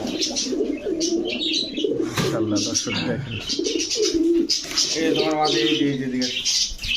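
Bombay pigeons coo and flutter close by in a loft, with soft repeated throaty calls and chirps running throughout, while someone talks over them.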